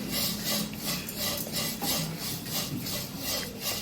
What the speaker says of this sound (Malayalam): ഇതേ പാനിൽ തന്നെ അവില് വറുത്തെടുക്കാം.